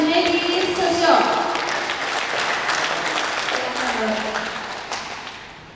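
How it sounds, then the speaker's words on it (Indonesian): Strong audience applause at a Galang Hati Galang Dana fundraising event welcoming Junaidi Susyong, steady crowd clapping that slowly fades, with voices and tonal sounds over it. "Mari kita sambut dengan semangat dan tepuk tangan yang meriah kepada Junaidi Susyong"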